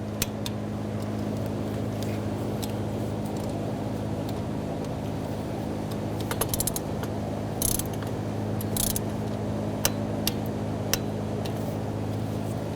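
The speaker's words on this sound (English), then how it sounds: "Now you want to torque these bolts to 84 inch-pounds" Torque wrench tightening high-pressure fuel pump bolts on a 2007-2013 BMW X5 3.0L inline-six, a series of faint sharp ratcheting clicks and a few clunks over a steady background hum.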